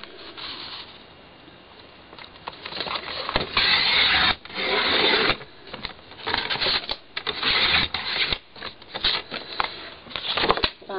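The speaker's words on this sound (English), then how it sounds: "my Stampin' Trimmer allows me to cut two pieces together at the same time" A Stampin' Trimmer slices through two stacked sheets of paper at once for a scrapbook box, giving close, scratchy bursts of cutting and sliding in uneven strokes, with quiet handling noise between them.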